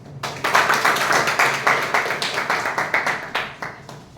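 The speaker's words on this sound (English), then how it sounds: "With a huge round of applause." A small audience at a Toastmasters meeting claps steadily, close and fairly loud, the clapping fading toward the end.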